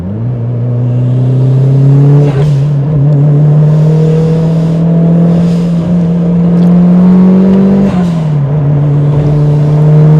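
A Mitsubishi Lancer Evolution 7 drives through curves, its engine droning loud and close from inside the car, pitch rising slowly under load, then dropping briefly at a shift before settling into a steady hum.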